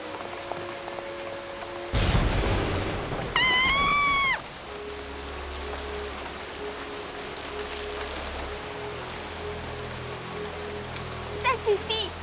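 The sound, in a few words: heavy rain in a cartoon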